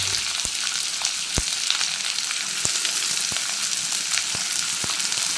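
Finely chopped onion fries in hot oil with bay leaf for an egg curry, a steady close sizzle throughout with a few sharp clicks of a spoon against the pan.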